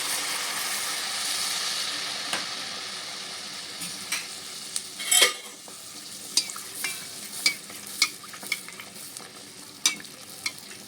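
Palm fruit malpua batter dropped into hot oil in a wok, a loud bubbling sizzle that settles into a steadier hiss, broken by several sharp pops and crackles, with no talking.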